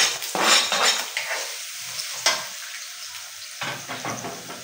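Garlic and onion stirred in a pan for chicken feet adobo, with scraping utensil strokes against the pan over a soft frying sizzle, close and alone.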